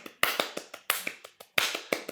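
Fast hand taps beat out a quick sixteenth-note pattern of sharp, crisp clicks in a steady run, close and distinct, with no talking over them.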